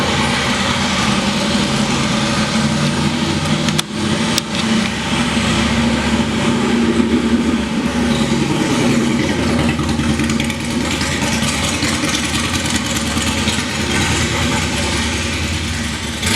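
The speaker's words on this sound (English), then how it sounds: "1200cc horizontal opposed twin-cylinder engine and a 6-speed transmission." A 2016 BMW R1200GS motorcycle with a 1200cc horizontally opposed twin-cylinder engine runs steadily, with a loud, close, continuous idle rumble and no speech.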